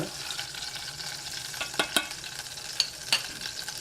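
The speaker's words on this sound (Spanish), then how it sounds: "Movemos un poco con el aceite, que le dé temperatura" Oil frying in a pan while mole oaxaqueño with chicken is stirred, a steady soft sizzle with a few sharper scraping knocks near the end, close and alone without talk.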